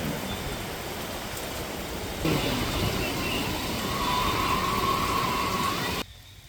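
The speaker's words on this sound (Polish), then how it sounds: "już leje tak mocno, że nie dałoby rady zwiedzać" Heavy rain pours down at the Angkor temples in Cambodia, a dense continuous hiss that swells slightly midway and drops away abruptly near the end.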